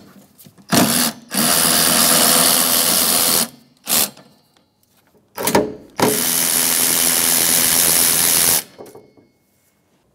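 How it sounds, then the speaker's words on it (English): A wrench backing off the 16 mm wiper arm nuts on a 2011-2017 Honda Odyssey, heard as two loud, sustained bursts of fast ratcheting clicks separated by brief pauses and short knocks. "our nuts holding on our wiper arms are gonna be 16 millimeter. So we'll back those off now"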